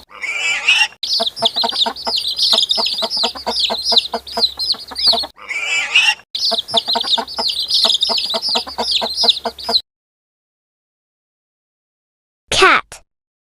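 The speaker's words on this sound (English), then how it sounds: "Chicken." Chickens clucking in a loud, close, rapid run of repeated clucks and squawks, broken by a short pause, then cutting off into silence before one final brief squawk.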